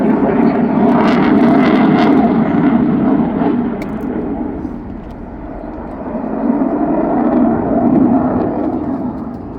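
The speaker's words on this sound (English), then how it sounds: "rolls the jet through 450 degrees." Jet aircraft flying manoeuvres at the English Riviera Airshow, a loud continuous engine roar that swells and eases as the jet rolls overhead, filling the whole stretch with broad rushing noise.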